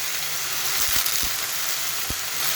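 Hot oil with fried onion sizzles steadily as ghevda beans and potatoes go into the pan, a dense close hiss with a few soft clinks and stirring knocks, no talk.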